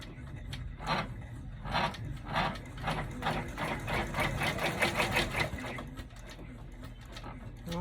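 An embroidery machine stitching the placement line of an in-the-hoop bag: rapid, rhythmic needle clatter that pulses steadily throughout at moderate volume, with the machine running alone.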